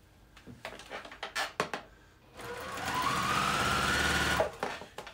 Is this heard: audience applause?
no